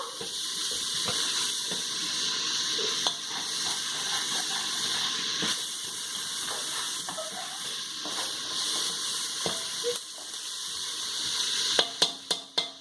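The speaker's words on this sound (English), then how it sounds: "Let it saute until brown." Garlic sautéing in a pan for Filipino lumpia gives a steady, fairly loud sizzle with occasional clinks and stirring taps, heard alone without talk.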